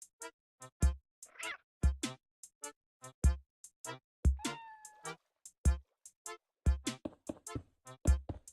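A cat in the Minecraft video game meows again and again in quick, short, clear calls, loud and close, repeating steadily with no talk over them.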